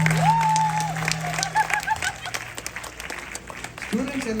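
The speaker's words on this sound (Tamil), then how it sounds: "நடிப்பு திறமைக்கு இன்னும் ஒரு தடவை கைத்தட்டல் கொடுக்கலாமா?" An audience at a Tamil school program applauds students' acting in a skit. Steady clapping runs under a prominent voice and tonal sounds, swelling briefly before voices take over near the end.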